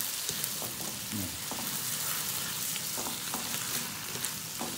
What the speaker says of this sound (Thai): ใช้หน่อเหลียงผัดนะครับ